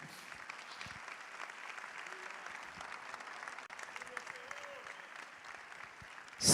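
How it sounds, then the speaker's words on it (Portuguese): A church congregation applauds at a soft, distant level, a continuous patter of clapping with faint voices mixed in and a sudden loud jolt at the very end. "Vamos aplaudir ao Senhor"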